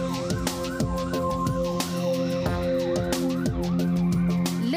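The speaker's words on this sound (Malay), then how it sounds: "laluan ambulans dihalang meskipun siren telah dibunyikan" An ambulance siren wails in a repeating rising-and-falling pattern over road traffic in Malaysia, loud and close and continuing the whole time.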